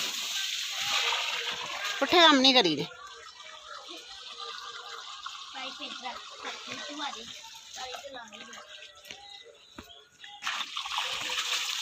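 Water splashes and sloshes from a pipe while vegetables are irrigated outdoors, with a louder gush near the start and then a steady trickle underneath people talking.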